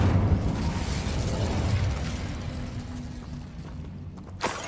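Incendio fire spell cast in Hogwarts Legacy, a loud rushing whoosh and rumble of flame that gradually fades, followed by a sharp pop near the end.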